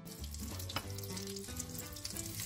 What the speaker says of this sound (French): Et on fait revenir les coquilles Saint-Jacques.